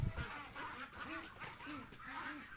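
Muscovy ducks being caught on a meat-duck farm in Ben Tre, from a flock of about a thousand, quack repeatedly amid a dense, noisy background of flapping and scuffling.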